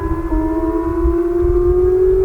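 Civil defense siren sounding during a Tooele County emergency warning system test, a loud steady wail with a slowly rising pitch, echoing in the open with no talk.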